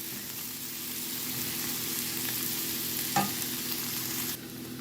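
Broccolini with caramelized onion and mushrooms fries in a pan, giving a steady close sizzle as it is stirred, with one brief scrape partway through.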